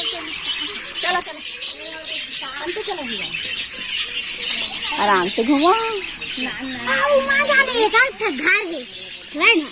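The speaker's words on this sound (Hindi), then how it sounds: "ये का है बजरीगर दादा" Budgerigars chirp busily in many quick overlapping calls and tweets, fairly close and loud, while people talk nearby.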